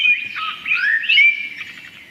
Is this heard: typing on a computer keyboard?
no